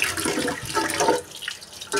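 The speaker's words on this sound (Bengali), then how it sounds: "এই তো ভাতের চাল ধুয়ে নিতে এসে পড়লাম" Rice grains washed under running water, a close splashing, rushing water sound with uneven swishes and a short lull before the flow picks up again, no speech.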